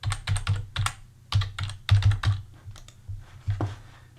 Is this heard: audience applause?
no